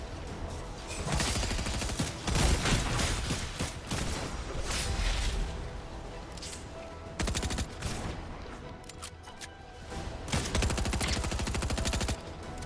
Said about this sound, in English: SMG, I'm still not a favorite of.